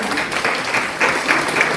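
Steady applause from a church festival crowd, a dense patter of clapping throughout with slight swells, fairly close.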